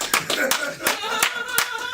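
Close, loud hand clapping in uneven bursts, several sharp claps scattered across a couple of seconds with some voices underneath.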